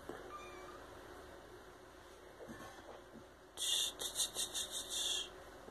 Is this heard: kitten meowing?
yes